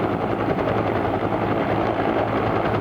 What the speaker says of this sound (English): these guys are so good with these helicopters